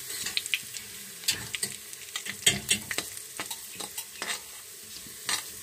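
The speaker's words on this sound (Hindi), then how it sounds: "इसके बाद इसमें मीठी सौंफ डाल दें, फिर इसको हिला लें" Sweet fennel seeds stirred in hot oil for a pumpkin sweet, with soft sizzling under repeated sharp scraping taps of a spoon against the pan; no talking.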